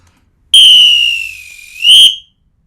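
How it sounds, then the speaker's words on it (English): A samba whistle blown as a stop signal for a band: one long shrill blast that fades slightly, then a short louder second burst, loud and alone with no talk. "When we, or your leader, want you to stop playing, you'll hear the whistle."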